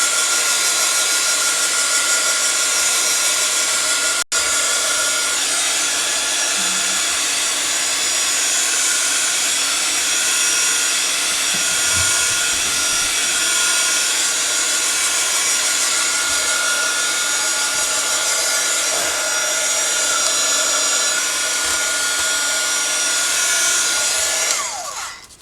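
A heat gun drying Mod Podge on a handmade journal cover blows with a loud, steady whirring hiss that runs unbroken for about 25 seconds before cutting off at the end, with one brief click early on.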